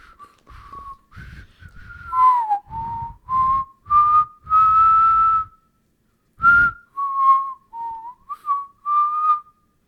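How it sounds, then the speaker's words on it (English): A person whistles a tune alone, a clear, near melody in short phrases with brief pauses between notes and a longer gap partway through. "I'm not that good at whistling."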